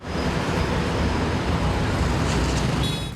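Steady, broad hum of street traffic in Brazzaville, passing vehicles blending into a constant roadway rumble, with a faint high tone near the end.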